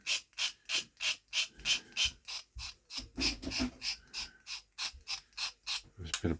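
A tool scrapes black paint onto a diecast model car in rapid repeated strokes, a rhythmic close-up rasping about three times per second that keeps going with no talk.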